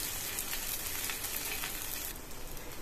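A rice flour and coconut roti cooks with oil on a hot tawa, giving a dense, continuous close sizzle that softens slightly toward the end, with no talking.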